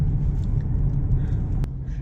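Car driving on a road toward Mesa Verde, Colorado, in rainy weather, a steady low rumble of engine and tires at moderate level, with no talk.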